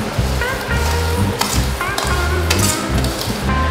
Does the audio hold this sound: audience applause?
no